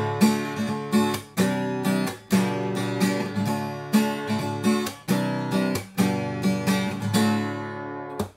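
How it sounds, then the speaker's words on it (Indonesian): Acoustic guitar picked up by a clip-on microphone, rhythmic strummed chords repeating in steady bursts, close and clear with no talk. "suara gitar ditangkap langsung sama clip-on."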